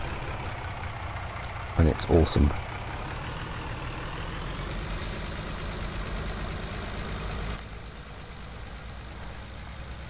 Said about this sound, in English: It's a man truck. More importantly, it's a V8